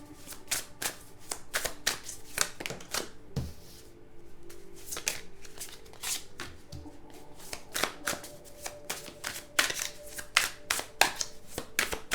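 Playing cards handled and laid out on a surface, a steady run of crisp flicks, slaps and shuffling snaps close by, with no talk over them.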